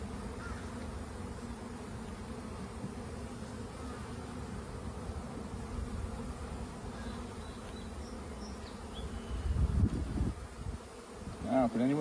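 Steady, dense buzzing of many honeybees on a hive frame close by, a continuous drone with a brief louder swell near the end.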